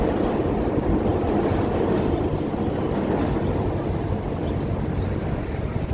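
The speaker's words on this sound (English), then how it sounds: "We hear subway train right below us" A New York City subway train rumbles beneath the street outside the Dakota Building, a steady, loud low roar that holds unbroken from start to finish, with no voices over it.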